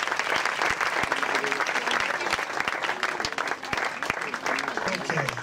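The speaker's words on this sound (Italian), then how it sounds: "L'applauso lo rifacciamo quando arriva." Lively applause greets the arrival of the Latina Calcio a 5 futsal mascot at a season launch event, a thick wash of clapping with distinct close claps standing out while voices talk over it.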